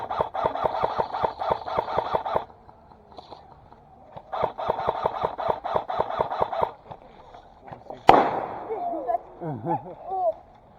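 An airsoft grenade goes off during a game: after stretches of rapid mechanical rattling, a single sharp, loud burst lands near the end and trails off into voices talking.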